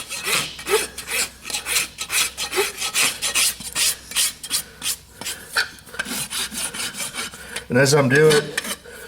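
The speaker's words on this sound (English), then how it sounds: "Slowly rasp and start leveling my foot up." A farrier works a horse hoof with a rasp, leveling and shaping it in a steady run of close, loud rasping strokes, with a brief spoken phrase partway through.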